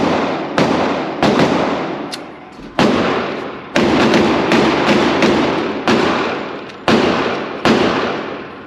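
A Smith & Wesson M&P 10mm pistol fires full-power Sig and Underwood ammunition outdoors, about ten sharp, loud shots spaced roughly a second apart, each one trailing off in a long echoing decay.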